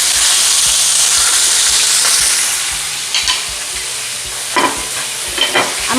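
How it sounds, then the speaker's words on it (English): Steady loud sizzle of chicken stir-frying in a hot wok, with a few scraping stirs and clinks of a utensil against the metal toward the end. "I'm going to be adding the chicken, just frying it."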